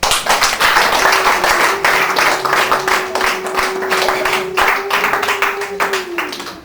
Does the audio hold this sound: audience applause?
yes